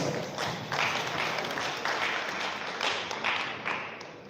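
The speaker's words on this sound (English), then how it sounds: "Let's a round of applause." A round of applause from the audience at a World Rivers Day commemoration held by Ghana's Water Resources Commission, a steady broadband clapping that sounds moderately close and fills the whole stretch, with no voices over it.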